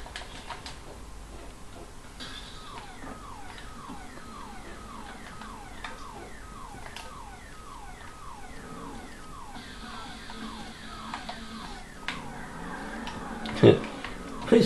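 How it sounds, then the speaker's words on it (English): A car alarm sounds in the video game GTA 5, a repeating electronic warble cycling steadily at a moderate distance while someone talks over it, with a few sharper clicks and bumps near the end. "Your alarm's just going off"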